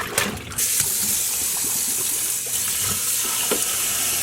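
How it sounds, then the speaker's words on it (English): Hand-dyed yarn is washed in water with a little dish soap, producing a bright, continuous wash of sloshing and running water, louder at the start and then steady. "Once again, I am going to wash with a little bit of dish soap."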